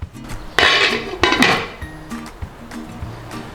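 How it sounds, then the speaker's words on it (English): A lid goes onto a slow cooker holding lamb shanks, giving a few sharp clinks and knocks of glass and ceramic close by, with two louder clatters early on and then lighter taps as it settles. "all we need to do now is put the lid on"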